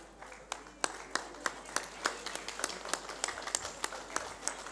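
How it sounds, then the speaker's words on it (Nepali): A crowd claps at a children's club talent show, with sharp, evenly spaced claps landing in a steady rhythm throughout, moderately loud over a quiet murmur. "सबैले जोरदार ताली बजाइदिनु होला।"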